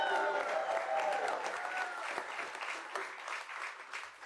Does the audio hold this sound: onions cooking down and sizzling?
no